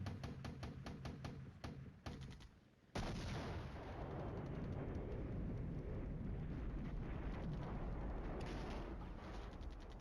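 Artillery fire in the wargame Flashpoint Campaigns: Red Storm: a rapid run of sharp booming impacts gives way to a heavy sustained rumbling roar of explosions that fills the rest, loud and continuous.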